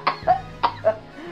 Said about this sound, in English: I don't know how I'm coughing.